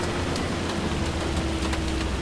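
Rain falls steadily in a farming video game, a dense, even hiss of drops over a low background drone, continuous and fairly loud with no voices.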